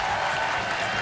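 A TV game show studio audience claps loudly and steadily in a brief burst of dense applause, with no pause.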